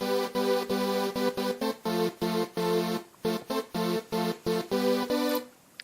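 Basic EDM song melody from a 3x OSC synth in FL Studio, played as a steady rhythm of bright, harmonically rich notes that cut off sharply between phrases. It plays alone, loud and close, with no talking.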